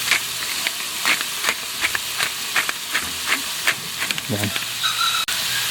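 Sautéing on a stovetop as pepper and salt are added, browning a small serving-sized portion: a steady sizzle and hiss runs throughout, moderately loud, with a brief spoken word over it and a few light clinks.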